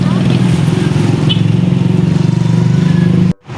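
Motorcycle engine running steadily and loud up close, a continuous low throbbing idle-like drone with a regular pulse, cutting off abruptly near the end.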